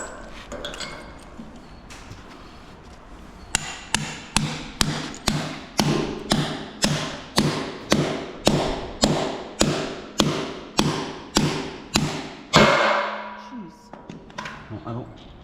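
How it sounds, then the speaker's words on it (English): Anchors hammered into a concrete floor while a car lift is installed: a long run of evenly spaced, loud metallic strikes, about two per second, each ringing briefly, with a few scattered taps before and after. "then hammer these guys in"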